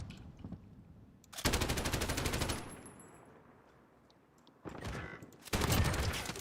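Bursts of automatic gunfire in an online shooter video game, two long rapid volleys separated by a quieter stretch, fairly loud and close, with no talking.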